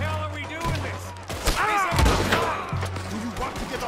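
Scattered gunshots and heavy thuds during a cannon-backed island shootout in Red Dead Redemption 2, sharp bangs mixed under close, shouting voices and a low rumbling hum.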